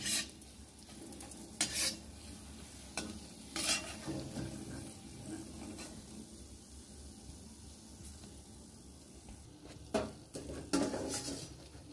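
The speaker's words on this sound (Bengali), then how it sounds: "তো এইভাবে সমস্ত পিঠেগুলো আমি উঠিয়ে নেব।" Fried jaggery pithas being lifted from hot oil: a low ongoing sizzle broken by scattered clinks and scrapes of a utensil against the pan, several sharper knocks near the start and end.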